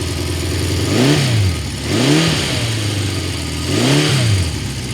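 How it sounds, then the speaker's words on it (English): A 1976 Honda CB750 K6 motorcycle engine idling smoothly, blipped three times with short rising revs that fall back to a steady idle, close and alone. "Nice smooth Honda engine."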